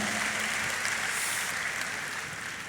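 A crowd applauds for a few seconds, a dense wash of clapping that slowly tapers off.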